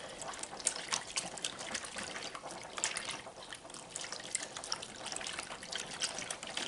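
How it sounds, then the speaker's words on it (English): A sourdough mixture whisked by hand with water in a bowl, giving a continuous wet, splashy scraping with quick irregular strokes, close and fairly quiet, with no talking. "We'll see if we can whisk it."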